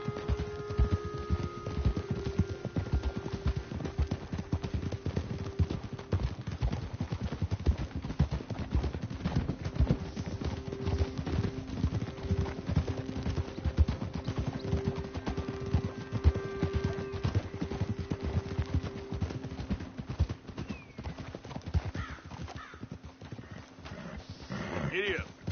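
A horse gallops in a video game, its hooves clip-clopping in a fast, continuous rhythm for most of the stretch, with talk over it and game music faint underneath.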